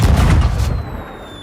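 A firework explodes in the Sea of Thieves pirate video game with a loud, close, deep boom. The blast rumbles and then fades, leaving a thin high ringing tone.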